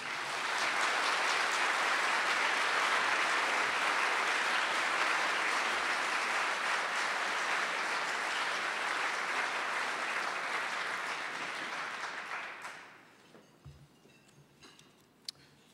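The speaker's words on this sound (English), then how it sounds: "let's welcome John Kitzhaber with a round of applause." An audience at a gubernatorial debate on health care policy claps to welcome John Kitzhaber, a sustained wash of applause that holds steady for about twelve seconds, then fades to a few scattered claps and quiet room noise.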